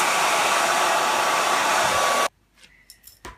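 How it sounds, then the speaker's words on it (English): A blow dryer runs steadily and loudly, blowing down into the cracks and crevices of a raised panel door, then cuts off abruptly, leaving a few faint handling noises. "we will go ahead and blow dry down into the cracks and crevices"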